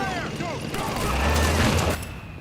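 Suppressing gunfire from the video game Metal Gear Solid 4 crackles in rapid bursts near an assault on a compound, with heavy booms and mechanical clatter layered underneath and voices mixed in.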